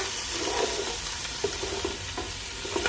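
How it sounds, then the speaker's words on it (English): Green chilies stirred into pulao frying in a pan, a steady close sizzle with soft scraping stir strokes. "we're gonna add it and some green chilies, and then we're gonna mix it around a little bit more"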